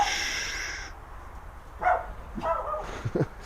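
A basset hound barks in a garage-like space. A few short, loud yelps and barks come late, after a steady background hum, with no talk.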